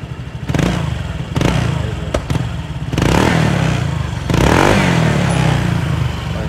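A Honda Vario scooter fitted with a 4Road aftermarket exhaust revs hard in several bursts, each throttle blip swelling into a loud, raspy engine roar before dropping back, recorded up close with no talking.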